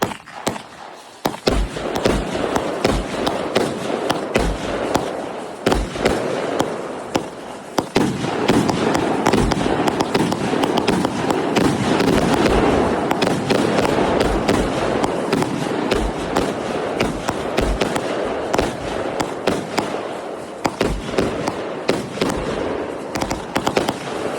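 A firework cake fired by an electric igniter goes off in a long rapid barrage of loud, sharp bursts, shot after shot crackling and booming for over twenty seconds with no pause.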